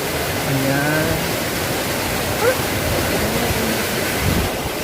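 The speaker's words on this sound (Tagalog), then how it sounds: "Ayun yung falls nila." A waterfall at Camp Paraiso in Nueva Ecija gives a steady broadband rush. Voices are heard faintly over the constant roar of falling water.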